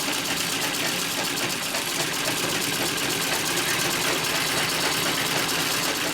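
A sewing machine runs steadily for six seconds, its fast mechanical whir mixed with a loud rattle from an unbalanced cabinet standing on an uneven floor.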